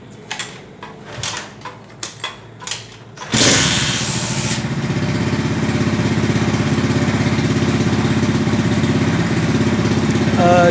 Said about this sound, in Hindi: मोटरसाइकिल को चालू कर लेता हूँ अभी।